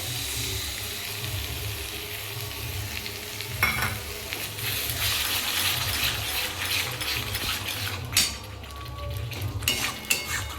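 Sour yogurt thinned with water stirred into half-browned mutton curry in a pan over lowered gas flame, a steady sizzle under scraping spoon strokes and occasional clinks of utensil on metal, close and continuous with no voices.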